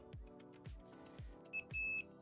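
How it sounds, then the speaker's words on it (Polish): A multimeter continuity tester, used while making a service cable for a Dell laptop, gives two short, high, steady beeps near the end, faint and close, after a run of regular soft thumps. "jest multimetr, więc trzeba skorzystać z pipczyka"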